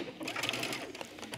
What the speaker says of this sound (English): And we're going to start sewing.